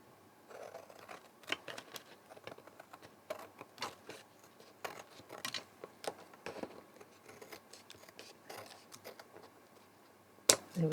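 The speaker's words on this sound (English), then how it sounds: "I'm just going to take my scissors now," Scissors snipping through excess paper card in paper patchwork crafting, a series of close, crisp irregular cuts and clicks against quiet background.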